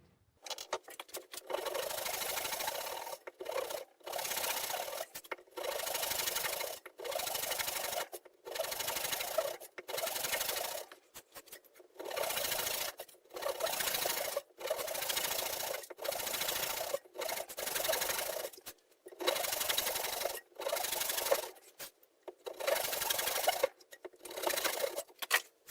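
A hand saw makes repeated relief cuts into wood for a half lap joint, rhythmic rasping strokes in short bursts with brief pauses between, close and clear.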